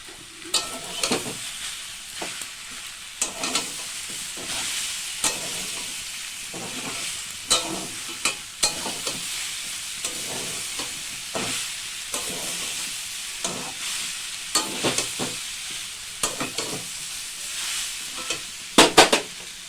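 Jackfruit curry with ginger and green chilli paste is stir-fried in a pan, producing a continuous low sizzle broken by repeated sharp scraping spatula strokes at an irregular rhythm, close and moderately loud, with no speech.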